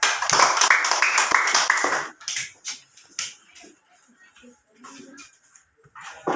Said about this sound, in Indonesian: Ya, tepuk tangan untuk kelompok Uranus